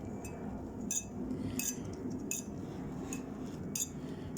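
Eggs, flour and milk whisked in a bowl for a lump-free batter, with a steady close clinking of utensil against the bowl's sides, sharp taps recurring about every half second over a low muffled swish.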